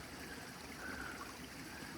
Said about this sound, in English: So this is another water course on the climb up.